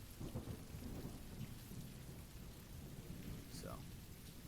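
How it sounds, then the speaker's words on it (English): Rain falling on surfaces with rolling thunder, a steady low rumble and patter of storm ambience playing throughout without pause, moderately quiet. "that's why we have the rain on today"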